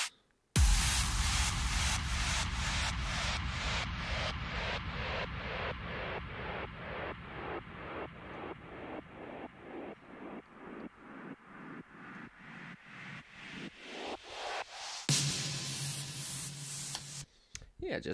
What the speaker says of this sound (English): It's all ranging from kicks, downlifters, uplifters, and some other things.